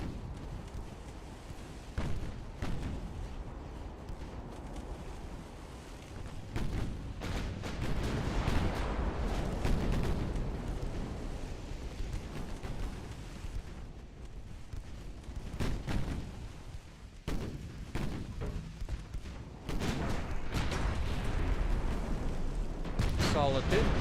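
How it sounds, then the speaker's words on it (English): Warship guns fire broadsides in the naval video game Ultimate Admiral Dreadnought, with repeated heavy booms and rumbling blasts spread through the scene and a voice talking over them at times. "Let's give the left side of our ship a chance to shoot at something."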